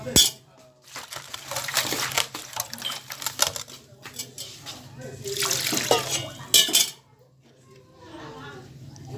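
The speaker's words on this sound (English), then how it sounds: "So let's wash the leaf." A loofah leaf is rinsed under running water, with splashing and bursts of flow rising and falling between quieter pauses, plus a low steady hum underneath.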